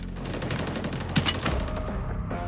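Rapid bursts of gunfire in Call of Duty: Warzone crackle in overlapping volleys, dense and loud, with a couple of sharper shots standing out midway before thinning slightly.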